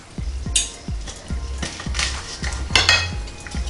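Knife cutting pieces off air-fried pork chops on a plate, a run of scraping, clinking cuts with sizzling underneath, close and fairly loud.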